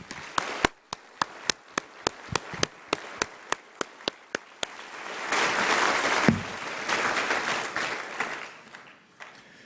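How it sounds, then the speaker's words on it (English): An audience at a university graduation ceremony first gives scattered, distinct hand claps, then breaks into a swell of loud, sustained applause that fades out toward the end. "I think you also deserve an additional round of applause."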